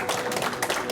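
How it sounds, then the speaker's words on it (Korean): Audience applause at a Seoul city forum, a steady wash of many hands clapping at once, filling the room for about a second at moderate loudness. "다시 한번 큰 박수 한번 부탁드리겠습니다"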